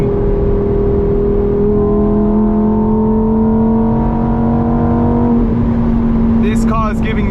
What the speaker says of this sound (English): Thank you Lamborghini for this amazing engine